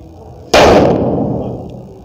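A single loud firework bang at a street victory procession, bursting suddenly after a quiet moment and then ringing out in a long, fading rumble, heard alone without talk.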